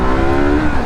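A Voge 350 AC motorcycle engine held high in the revs, a loud, steady buzzing drone with strong harmonics, close by and with no talk.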